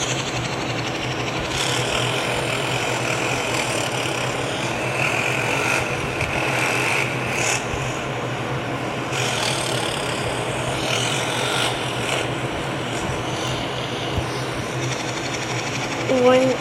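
A Yamaha XJ6 motorcycle engine runs steadily with a dense, even mechanical drone throughout, and some talk is mixed in over it.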